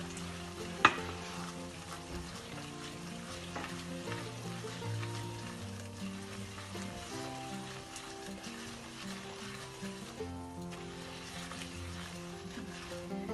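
Yellow egg sauce bubbles and sizzles steadily in a pan, foaming up, a continuous frying crackle with a single sharp clink early on.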